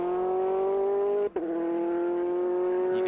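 A 2005 Audi LMP race car at Circuit Of The Americas holds a loud, sustained, buzzing engine note with a rich harmonic tone, broken by one very brief cut, like a gear change, before the drone resumes.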